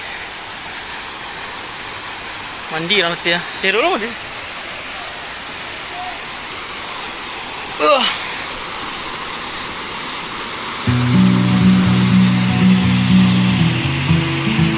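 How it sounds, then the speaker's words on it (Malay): A waterfall pours in a constant, full rushing roar, while voices talk and exclaim briefly over it and a louder burst of noise builds near the end. "Air terjun."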